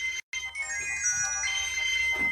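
An incoming call sets off a phone ringtone, a loud electronic melody with sustained tonal notes playing continuously up close after a brief cutout, with no voices over it.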